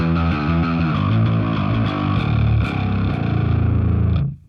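Metal bass guitar driven through overdrive saturation, loud and close, playing a short riff of gritty, sustained low notes that ends abruptly.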